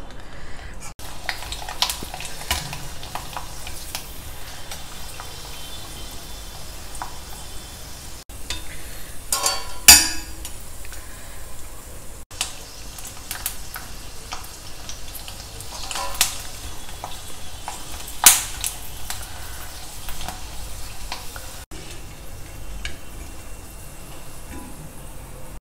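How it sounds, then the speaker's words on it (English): Vadams frying in hot oil, a dense continuous crackling sizzle held close and steady for the whole stretch, broken by occasional sharper pops and clinks of a utensil. "Now I'll fry some of these vadams."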